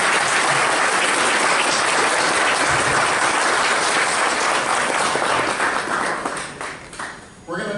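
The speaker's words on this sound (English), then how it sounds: "giving them a round of applause" Applause from a patient workshop audience, loud dense clapping that thins out and fades over the last couple of seconds, with some voices emerging as it dies down.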